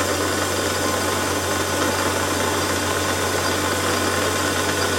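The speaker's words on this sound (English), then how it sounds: "So up with the chuck now and a centre drill." A small lathe runs with a centre drill in the chuck, cutting into metal, producing a steady, loud mechanical drone and hiss that continues evenly throughout without pauses.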